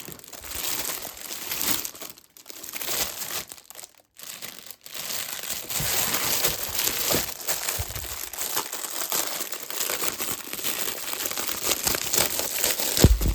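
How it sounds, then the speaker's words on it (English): Steady crinkling and rustling of a plastic-lined gardening bag being handled up close, with continuous crackly texture and a few brief pauses. "Excuse the rustling."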